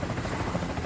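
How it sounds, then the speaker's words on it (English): Helicopter rotors in the movie Crocodile Hunter: Collision Course, a dense, steady thudding whir that fills the moment, loud and continuous with no voices over it. "And then like 12 helicopters just pop up behind him."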